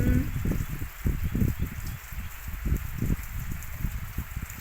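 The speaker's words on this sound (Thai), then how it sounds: "บรรยากาศ ในเมื่อฝนตก" Rain falls outside, heard as a soft background hiss with irregular low patters and drips thudding nearby, fairly quiet and continuous without speech.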